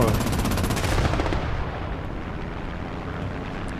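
In War Thunder, an aircraft dives and strafes the ground with its machine guns: a loud, dense, continuous rattle of rapid gunfire that fades into a rumbling roar, with no voices.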